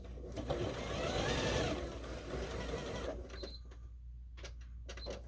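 A sewing machine runs steadily as it stitches quilt fabric for a quilt panel border, with a loud continuous whir that slows and stops partway, then gives a few short bursts of stitching.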